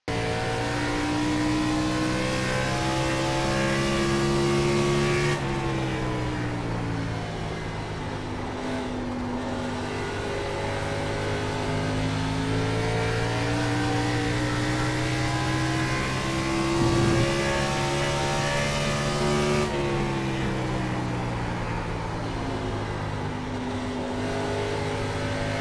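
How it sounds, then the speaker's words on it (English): A NASCAR Cup Series car runs a fast lap of Old Phoenix Raceway in iRacing, its loud V8 engine howling steadily close up, rising through long pulls with two sharp lifts as it brakes into corners. "here's my fastest lap in the NASCAR Cup Series car at the Old Phoenix Raceway"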